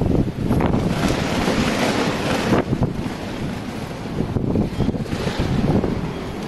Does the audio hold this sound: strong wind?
yes